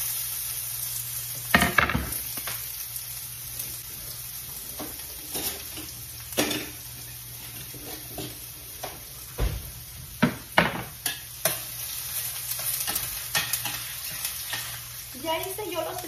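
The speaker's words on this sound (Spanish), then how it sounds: "El aceite ya está. Y ahí vamos a echar esta cebolla." Chopped onion frying in hot oil in a pan, giving a steady sizzle with a few sharp clatters and scrapes of stirring scattered through.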